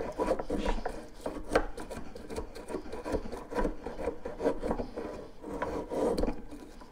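A Harbor Freight hand plane shaves curls off a wood board in repeated rasping strokes, each pass a close, rough scraping swish in an uneven rhythm.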